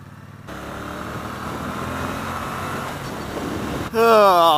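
Triumph Bonneville T120 motorcycle riding, its engine a steady close drone with wind rush that cuts in after a brief quiet start, ending with a louder burst as a voice speaks over it.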